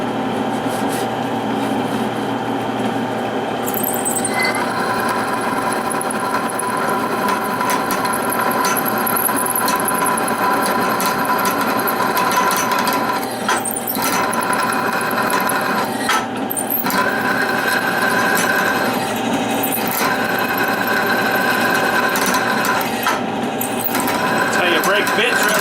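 A power drill grinds steadily through metal on a mini excavator bucket for a long stretch, loud and close, with a few brief dips.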